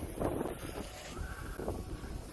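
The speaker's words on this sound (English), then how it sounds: "Fighting the wind already" Gusty wind buffets a microphone outdoors at a radio-controlled Cessna flying session, making a steady broadband rumble with low thumps that swell and ease across the moment.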